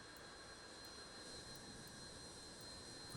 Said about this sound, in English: we're a giant plane with 6 giant engines